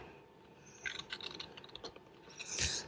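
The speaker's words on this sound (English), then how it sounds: "So I'm going to use my scissors now" Scissors cutting through card while making a Z fold tag, a few soft snips and rustles close by, ending in one louder crisp cut.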